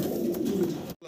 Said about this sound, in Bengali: এক পেয়ার ব্ল্যাক কালারের ড্যানিশ কবুতর আছে